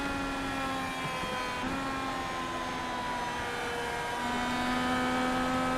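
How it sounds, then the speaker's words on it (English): Onboard engine of the number 99 race car held at steady high revs in a long fourth gear, a continuous droning whine with sustained harmonic tones and no clutching or shifts, loud and close throughout. "Let's listen in with that number 99 car, see if he's doing anything aggressive"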